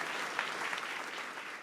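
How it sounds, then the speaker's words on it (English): Students at the opening ceremony of a national academic competition applaud, a steady wash of many hands clapping throughout, moderately distant and even in loudness. "Give yourself a round of applause for that."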